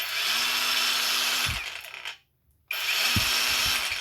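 A cordless brushless three-speed angle grinder whirs loudly at a steady pitch, winds down to silence, then restarts and runs again, with no talk over it.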